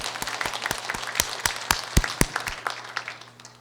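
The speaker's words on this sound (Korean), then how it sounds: "박수 한 번만 해드려요" A church audience at an Advent retreat gives a nun a short burst of applause, with sparse, distinct claps rising to a few loud peaks and then thinning out, with no talk over it.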